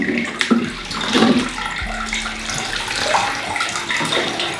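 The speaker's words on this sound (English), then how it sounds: "I'm gonna water this because all of those leaves were very thirsty" Water poured onto a thirsty houseplant during indoor plant care, a steady splashing trickle running close up for several seconds with a brief low gurgle partway through.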